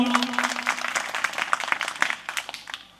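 An audience at a spiritual satsang claps for Mahant Vishnugiri Maharaj of Paldi, brisk crowded clapping that starts loud, holds for a few seconds, then thins out and fades.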